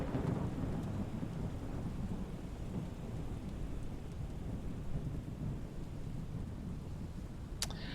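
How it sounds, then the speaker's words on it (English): Steady rain falls around Edinburgh airport in Microsoft Flight Simulator 2020, a dense, even hiss with a deep low rumble underneath, continuous and alone throughout. "Here's Edinburgh in the rain"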